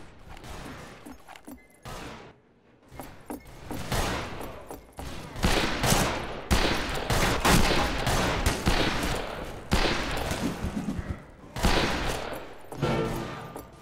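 Repeated shotgun and pistol gunshots in a video game, bursts of loud blasts separated by brief lulls, with a short quiet gap early on and faint voices in the background.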